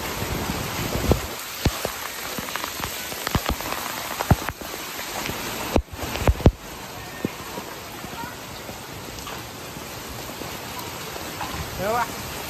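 Heavy rain with hail and strong winds in Badlapur pours down steadily, with scattered sharp hits and knocks against surfaces as hail strikes nearby.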